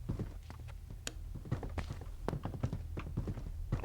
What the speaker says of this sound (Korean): 와, 나 순간 발소리 3개 들려서 놀랬네.